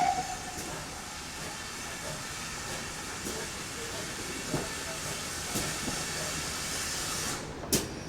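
LMS Ivatt 4MT class 2-6-0 steam locomotive 43106 at a spring steam gala on a heritage railway, giving a steady hiss of steam under distant station ambience, with a few faint clanks and a sharp burst near the end.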